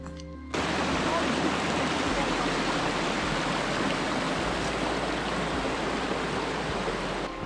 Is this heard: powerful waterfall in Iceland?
yes